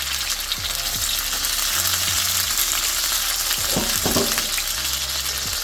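Polenta slices fry in a crowded pan with a steady, loud sizzle, while fainter clinks and bumps of cooking utensils come and go near the end.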